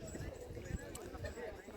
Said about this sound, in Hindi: और भी घोड़े आ रहे हैं